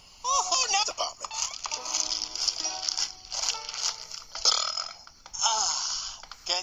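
A person burps several times in close, loud bursts, with crinkly rattling and playful vocal sounds mixed in.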